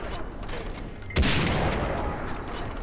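A sniper rifle fired in the video game Far Cry 3, one loud sharp shot with a rumbling tail over steady game noise.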